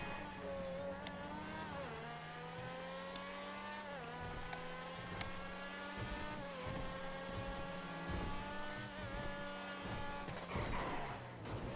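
A supercar engine in a video game drones loudly and steadily, its pitch climbing and then dropping at each gear change every couple of seconds, with a rougher burst near the end.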